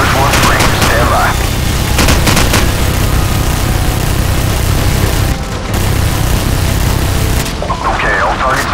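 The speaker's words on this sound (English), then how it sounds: "we are taking heavy fire from a fortified position on the 5th floor" Heavy gunfire and booming blasts from the Call of Duty 4: Modern Warfare mission The Sins of Our Fathers pound on loudly and continuously, with rapid bursts and explosions, while radio voices talk over the din.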